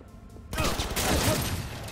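Gunfire in Cyberpunk 2077 breaks out after a short quiet lead-in, a dense, loud burst of rapid shots rattling continuously to the end.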